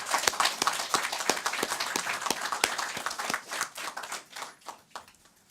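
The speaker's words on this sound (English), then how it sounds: "please join me in giving them a lusty round of applause" Graduates of 2018 from Montserrat receive applause at a border security closing ceremony, dense hand clapping from an audience that thins and fades toward the end, with no talk over it.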